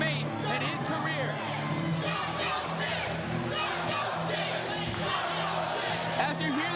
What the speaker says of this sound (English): As you hear the chant of Psycho Sid go out through the crowd